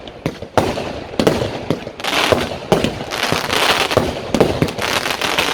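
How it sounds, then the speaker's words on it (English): Fireworks from 16-shot cakes bursting in rapid succession, a steady string of sharp cracking shots with loud pops and crackle, no voices. "a couple of 16-shot cakes in the background"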